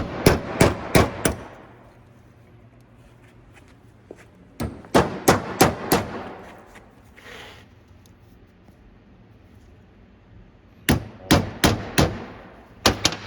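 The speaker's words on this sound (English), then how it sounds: "I'm just going to take a sharpened punch and just give it a couple whacks" Sharpened punch struck with a hammer on a CV axle boot clamp of a 2010 Volvo S40: three bursts of four sharp metallic whacks in quick succession, loud and close, separated by quiet pauses.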